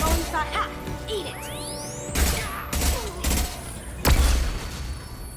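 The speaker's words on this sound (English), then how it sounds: "Flashbang." Flashbang grenade going off in the Mass Effect 2 video game amid a firefight, with sharp booming bursts, a whistling sweep and clattering impacts, loud and repeated under people talking.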